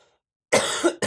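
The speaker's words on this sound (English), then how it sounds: "Really sorry about the cough." A single harsh cough up close, two bursts in quick succession after a moment of silence.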